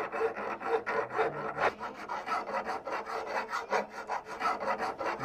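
A hand file rasps seams off a crude cast Grammy statuette, a rhythmic series of close scraping strokes, roughly two per second, steady and fairly quiet with no talk.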